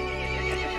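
A horse neighs in the video game Resident Evil Village, one loud, close whinny with a sustained tonal cry over a dense game background.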